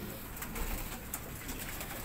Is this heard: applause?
no